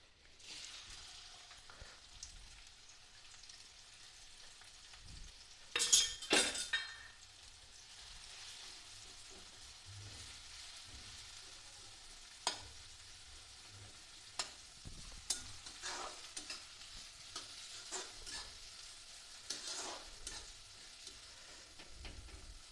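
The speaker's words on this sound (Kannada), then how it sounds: "ಎಣ್ಣೆ ಗರಂ ಆಗಿದೆ ಸ್ನೇಹಿತರೆ. ಈಗ ನಾವು ಅದಕ್ಕೆ ಸ್ವಲ್ಪ ಈರುಳ್ಳಿನ ಹಾಕೊಂಡ್ಬಿಡೋಣ." Onions frying in hot oil over a slow flame make a quiet, continuous sizzle with scattered spoon clicks and a brief louder burst early on, heard alone without talk.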